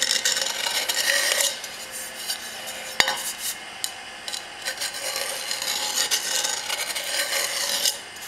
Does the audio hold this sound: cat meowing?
no